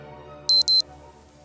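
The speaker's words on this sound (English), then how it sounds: "My little Casio watch is beeping like a motherfucker." A small Casio digital wristwatch beeps in two quick high-pitched electronic bursts, and a third starts right after, loud and close over a faint low hum, with no voices.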